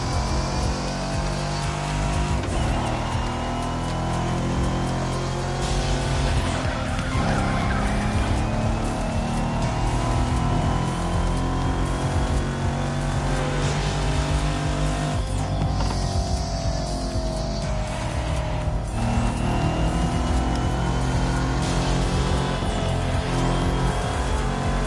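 Race cars in The Crew video game tear through the night streets of Honolulu, a loud, constant engine roar with shifting pitch, gear changes and occasional tire squeal.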